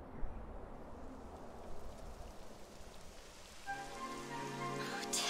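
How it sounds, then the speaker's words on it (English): Steady rain hisses on surfaces in Dragon Quest XI S, a constant soft patter that holds throughout, joined midway by sustained musical tones over the downpour. "It would have to go and start raining, wouldn't it?"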